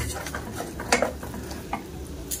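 A drop of cooked jaggery syrup for peanut chikki gives a sharp crackle, followed by a fainter tick, both close and brief over a quiet kitchen background.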